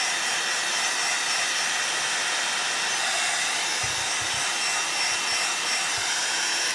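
A heat dryer blows a steady, loud, unbroken roar while drying a paper craft card, with a few faint low thumps partway through.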